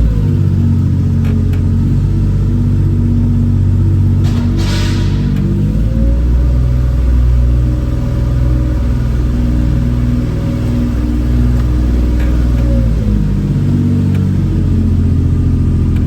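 A naturally aspirated, non-turbo road-and-race car accelerates hard, its engine note rising and falling through strong revs, loud and close over a steady low rumble with no talk.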